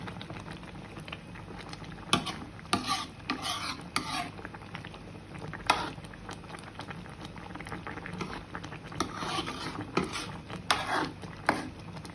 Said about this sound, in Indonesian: diaduk lagi pelan-pelan